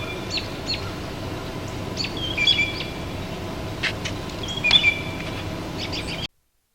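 A blue jay sings a series of clear, musical whistled phrases, several short bright calls spaced over a few seconds against a soft outdoor background, with no voices.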